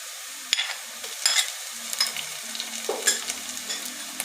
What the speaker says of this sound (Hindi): अब इसके अंदर मैं डालने लगी हूँ अदरक और लहसुन